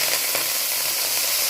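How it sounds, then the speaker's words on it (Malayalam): Spinach dropped into hot oil with mustard seeds sizzles loudly and continuously, a dense close hiss filling the whole moment with no voices. "എന്നിട്ട് നമ്മളിതിലേക്ക് ചീര ഇട്ടു"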